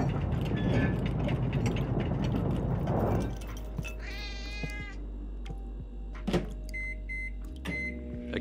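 Pet cat in a video game, a close, loud meow repeated a few times over a humming game background, followed by electronic beeps and tones with no talking.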